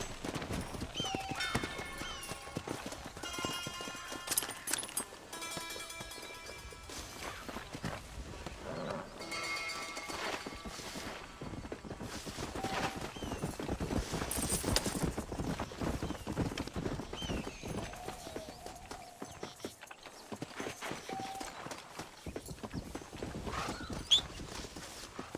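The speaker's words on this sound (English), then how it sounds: "Tem uns cavalos ali, né? Pra poder domar. Cavalo ali." Horses in the Red Dead Redemption video game, with steady clip-clopping hooves and several clear neighs and whinnies over a busy game soundscape, with occasional brief voices.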